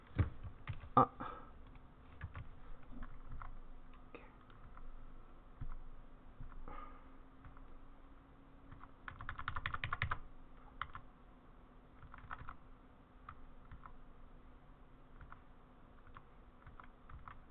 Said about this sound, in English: So we're just gonna use our arrow keys to just make sure it's actually well done.